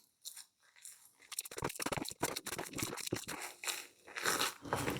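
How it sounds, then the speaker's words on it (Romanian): Walnut filling for cozonac is mixed in a bowl with a spoon, making irregular close crunchy scrapes and clicks after a quiet start. "Amestec și nuca."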